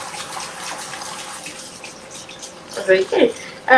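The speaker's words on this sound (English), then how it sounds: "Wash my hands again." Kitchen tap running into a sink while hands are washed during cooking, a steady hiss of flowing water with louder splashes toward the end.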